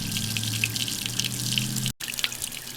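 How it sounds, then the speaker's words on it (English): Water running from a hose to rinse out a fish tank for a pet bass, a steady close splashing and trickling flow with dripping, briefly cutting out near the end before resuming. "We got the water running through here."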